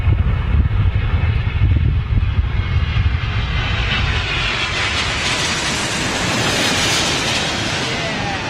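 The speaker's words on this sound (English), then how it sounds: "Beautiful old 777 coming in now." Boeing 777-200 airliner landing at a windy Heathrow, its engines a loud, steady roar with a rising whine, mixed with heavy wind buffeting the microphone throughout.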